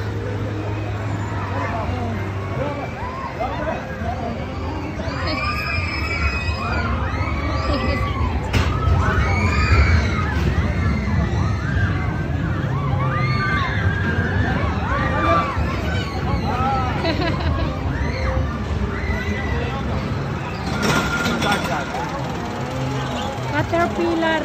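A crowd of people, children among them, shout and cheer continuously at a busy outdoor weekend gathering, with traffic rumbling underneath and voices talking nearby throughout.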